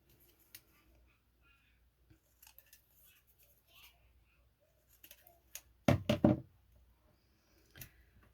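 Scissors cutting paper for a handmade journal, a fussy cut snipped off a strip: a few faint snips early, then a loud cluster of close crisp cuts near the middle and one more near the end.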